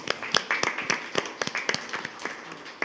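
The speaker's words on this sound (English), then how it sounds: "So let's give her a round of applause." Audience at a school district board meeting applauds a groundskeeper retiring from La Quinta High School after 32 years, with irregular, moderately loud claps running steadily throughout.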